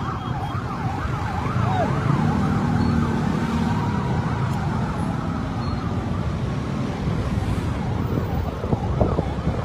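A fire truck's wavering emergency siren sweeps up and down continuously over a steady rumble of traffic and engines, fairly close and loud throughout, on a Quezon City street.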